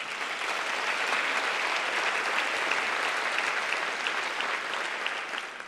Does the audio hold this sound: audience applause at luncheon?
yes